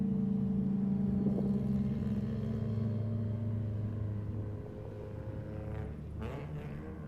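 Race car engine in a WRL endurance race at Barber, downshifting into turn 7: a steady, loud, low engine drone with strong harmonic bands that shifts pitch, joined by a faint second engine toward the end.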